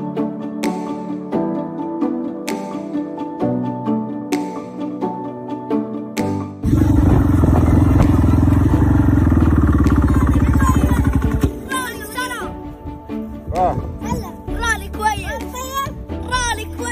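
A rally car's engine roars loudly past spectators, a sustained blaring burst lasting several seconds before fading, with children chattering and shouting excitedly before and after.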